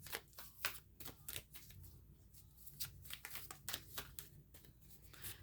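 Oracle cards are shuffled by hand in a quiet room, a string of crisp riffling bursts and soft slaps spaced irregularly, close and fairly faint.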